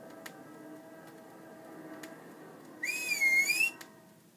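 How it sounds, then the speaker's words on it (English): Sharp, rising-and-falling finger whistle like a policeman's signal to stop street traffic, sounding once for under a second over faint ticking and room hiss. "King Gerard loved to hear him whistle with his fingers in his mouth when he wanted to stop the traffic"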